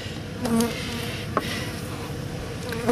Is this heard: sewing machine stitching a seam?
no